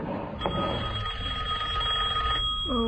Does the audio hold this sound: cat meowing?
no